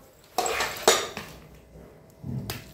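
Kerala-style coconut mushroom biryani being served onto three plates, with a few sharp clatters of a metal spoon against dishes and soft scraping between them, close by and without speech.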